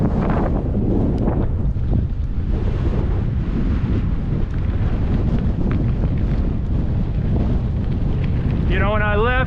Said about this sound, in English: Oh, that wind. He's not letting up.